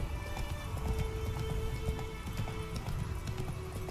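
Horse hooves pound steadily at a gallop in the video game Witcher 3: Wild Hunt, a loud, continuous rhythmic clopping with a faint whinny-like tone layered over it.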